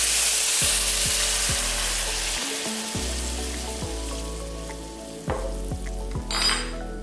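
Coconut milk poured into rice cooking in a pan gives a steady loud sizzle and frying hiss, with repeated clicks and scrapes of stirring and a clatter of utensil against pan near the end.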